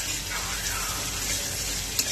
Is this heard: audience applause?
no